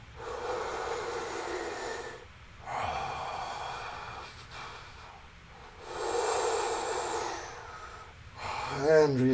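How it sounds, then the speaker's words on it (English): Slow, deep breaths during a yoga session, long airy inhales and exhales in three or four broad swells separated by quiet pauses. "Just keep breathing deeply here."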